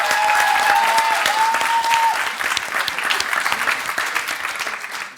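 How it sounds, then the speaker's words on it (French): Audience applause at a high school debate competition, dense clapping that starts full and thins slightly toward the end, with a brief whistle-like tone early on. "sous vos applaudissements"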